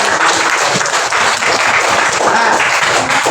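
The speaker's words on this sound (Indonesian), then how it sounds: "berikan aplaus" Applause from a group, steady loud clapping filling the whole stretch with no pauses.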